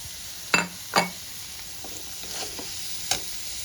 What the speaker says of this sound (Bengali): এবার আমি সতে করে রাখা মেথিটাও দিয়ে দেব।